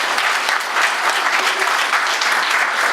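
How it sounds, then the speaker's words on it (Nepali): A church congregation at a Sunday sermon claps for the groom, a young man visiting from America. The applause is loud, dense and sustained throughout, with a faint murmur of voices beneath it. "उहाँलाई हामी ताली बजाउँ न सबैले"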